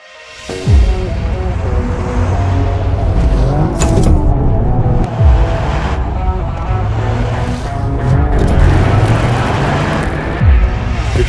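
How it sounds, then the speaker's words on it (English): A Toyota GR Yaris rally-bred hatchback engine roars loud and close, rising and falling through repeated revs and gear changes with a few sharper bursts over a continuous mechanical drone. "This is the Toyota GR Yaris, and it exists for a very specific purpose."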